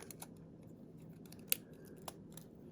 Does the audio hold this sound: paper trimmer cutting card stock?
yes